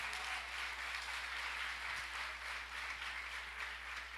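A congregation at a church youth congress applauds, a soft, steady wash of clapping heard from a distance that lasts a few seconds without pause.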